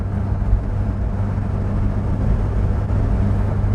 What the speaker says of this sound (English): Sounds like it's revving quite a lot here at 50.